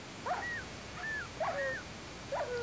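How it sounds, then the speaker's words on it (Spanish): Dogs and wolves fight in a modded video game, making a few short whimpering yelps and whines of rising and falling pitch, spaced apart and moderately faint over a hissy background. "se están matando ahí los perros y los lobos delante de mi cara"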